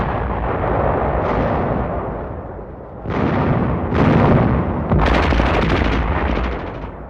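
Gunfire and incendiary explosions destroy an enemy position in snowy Arctic combat, a series of loud booming blasts with rumbling and crackling debris, several distinct bursts following one another, close and without talk.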